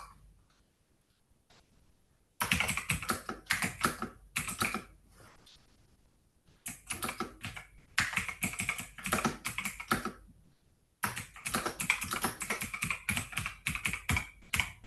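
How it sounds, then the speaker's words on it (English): Rapid clattering of keys on a computer keyboard in three bursts separated by short pauses, close-up and with no speech. "Just for demo, I'm just typing one line only"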